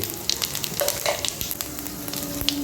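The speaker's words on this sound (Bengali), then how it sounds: "এই তেলের মধ্যে আমরা দিলাম প্রথমে জিরে" Cumin seeds hit hot oil in a kadai and sizzle steadily, a dense crackling hiss with scattered sharp pops, close and moderately loud, no voices.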